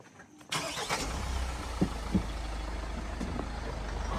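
A car at night starts up and rumbles steadily close by after an abrupt onset, with a couple of brief knocks and faint background noise over the continuous engine drone.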